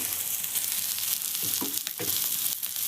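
Steady, loud sizzling of tuna frying in hot oil in a pan, with a few soft clinks and scrapes from stirring.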